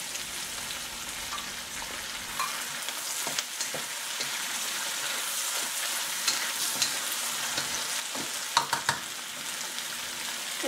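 Bell peppers and broccoli fry in a pan with a steady, close sizzle, a few light scrapes and clicks of stirring scattered throughout.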